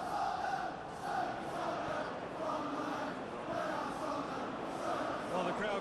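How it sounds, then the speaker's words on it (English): A stadium crowd in a PES 21 football match, PSG vs Tottenham in the UEFA Super Cup final, roars in a steady, broad swell of cheering throughout. "the crowd clearly like what they just saw"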